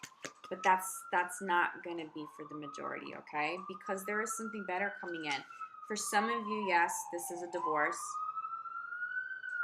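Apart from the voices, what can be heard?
police sirens in the New York background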